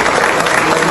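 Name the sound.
crowd applauding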